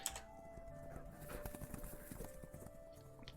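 Horses galloping in the video game Chronotopia: Second Skin, a steady rhythmic clip-clop of hooves at moderate distance over a low ambient tone.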